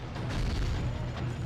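Dense, rumbling bursts of video game gunfire and booms from Gungrave blend into a continuous low roar, fairly loud, with no clear gaps.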